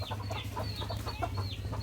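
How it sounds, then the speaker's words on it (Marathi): Roosters cluck softly near a village house, a faint string of short bird calls over a low background hum. "ह्यांचे कोंबडे आपणच घराकडे येतात."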